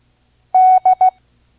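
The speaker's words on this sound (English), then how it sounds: "Here is another Morse code letter." A clear, loud electronic Morse code tone for the letter D sounds once long, then twice short in quick succession, against silence.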